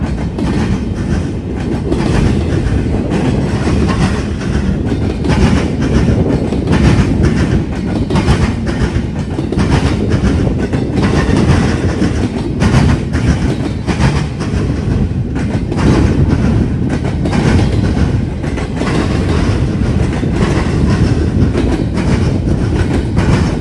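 A BNSF freight train led by a pair of orange GE locomotives rolls past nearby on a wet late-fall afternoon in Marion, with loud continuous rumble and rhythmic wheel clatter throughout.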